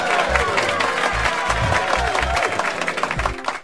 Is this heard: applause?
yes